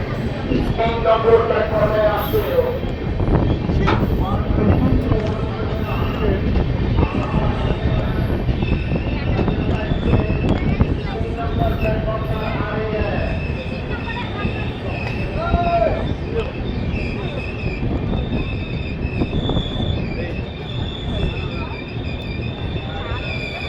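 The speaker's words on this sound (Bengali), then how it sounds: "সকাল দশটা বেজে পঁয়ত্রিশ মিনিটে রামপুরা স্টেশনের দু নম্বর প্ল্যাটফর্মে এন্টার করছে তেভাগা এক্সপ্রেস" Tebhaga Express, a train with new LHB coaches, rolls into platform two at Rampura station, its steady rumble and clatter continuing throughout with wheel squeal and station bustle, while a voice talks over it.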